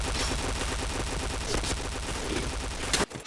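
Dense automatic gunfire from a shooting video game, rapid continuous shots at a loud, steady level, cutting off abruptly near the end.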